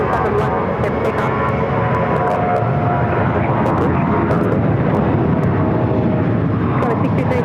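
A jet airliner roars down runway 7 left at Phoenix Sky Harbor airport on its takeoff roll, a loud, continuous broadband engine rumble that holds steady throughout.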